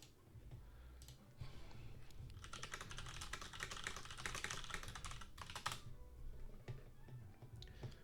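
Quick run of computer keyboard typing while a Discord direct message is written, a soft, dense patter of key clicks that rises in the middle of the stretch and fades near the end, with no one talking.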